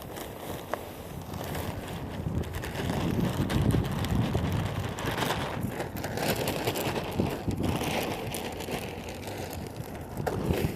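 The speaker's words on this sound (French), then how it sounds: "Un peu là, il y a un peu de vent" Wind blows outdoors in a garden where a bag of potting soil is being emptied into a permaculture raised bed, a steady breathy rush with gusty low rumble buffeting the microphone throughout.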